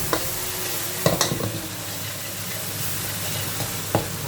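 Stir-frying for Thai basil pork crackling kaprao: a steady, soft sizzle from the hot pan, with a few sharp scrapes and clacks of the spatula scattered throughout.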